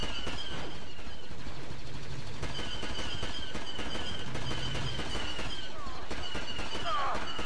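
Steady blaster gunfire from a modded Star Wars Battlefront 2 battle on the Delta Map Zero, quick rapid bursts over continuous battle ambience, fairly quiet in the mix.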